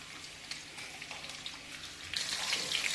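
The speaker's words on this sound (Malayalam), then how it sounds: "ഇതെല്ലാം കൂടെ നല്ലപോലെ ഇളക്കി വെക്കാം. ഇച്ചിരി നേരം ഒന്ന് തിളയ്ക്കണം." Chicken curry boiling and simmering in a pot, a soft, steady bubbling and faint sizzle that grows denser and louder near the end, with no one speaking.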